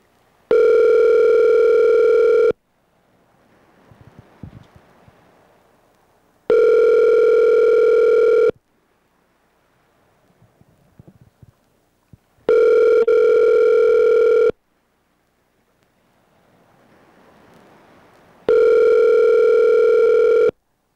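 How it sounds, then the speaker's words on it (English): A telephone rings unanswered, four long electronic ring bursts evenly spaced with quiet gaps between them, loud and close, with faint rustling noises in the pauses. "McDonald's, answer the phone."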